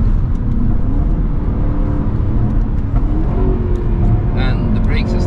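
Rebuilt, previously wrecked Jaguar F-Type SVR with a suspected cracked intake pipe and weak brakes, engine droning loud and steady under acceleration, a continuous close roar with rising tones, people talking over it inside the car.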